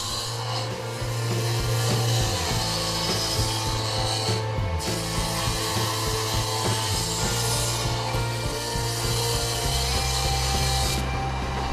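A table saw fitted with a dado stack cuts through wooden boards with a loud, continuous rough grinding roar close by, its drone shifting slightly as the cut progresses.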